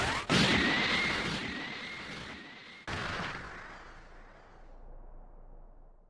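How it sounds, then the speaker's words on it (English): Special Beam Cannon attack in the Dragon Ball Sparking Zero video game: a sharp blast opens into a sustained whooshing energy roar, cut by a second hard impact, then a rumbling explosion that slowly fades. "Special Beam Cannon!"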